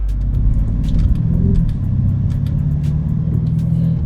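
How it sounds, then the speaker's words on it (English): A Lamborghini Urus Widebody being driven gives a steady, loud, close low engine drone with road rumble and a faint rising hum, continuous throughout without speech. "we are driving Chief Keef's Lamborghini Urus Widebody"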